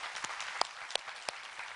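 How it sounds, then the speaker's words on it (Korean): A church congregation applauds during a Sunday service, giving a quiet, loose patter of claps with a few sharper individual hits standing out. "우리 하나님께 감사와 영광의 박수를 드리겠습니다"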